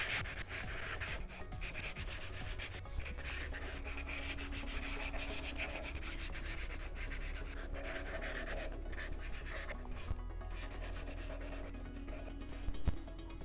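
Steady back-and-forth rasping of sandpaper rubbing across a surface, close up and continuous, with no voices.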